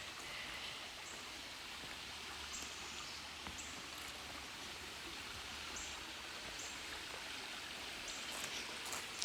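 A creek runs beside garden flower beds, giving a steady, soft wash of flowing water with faint bird calls over it and no talk.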